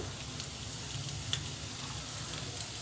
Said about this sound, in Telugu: వీటిని చక్కగా వేయించేసుకోవాలి.